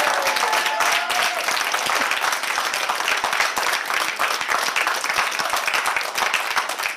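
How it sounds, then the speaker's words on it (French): A studio audience at a live radio show applauds steadily and loudly throughout, dense continuous clapping with no talk over it. "Un grand merci au public du Studio 15. Vous pouvez vous applaudir. Applaudissez-vous,"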